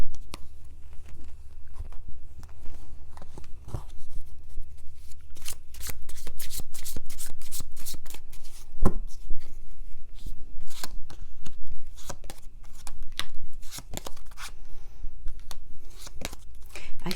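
Tarot cards are shuffled close up in a long run of crisp, rapid riffles and soft slaps, with the rhythm shifting between quick bursts and brief pauses throughout.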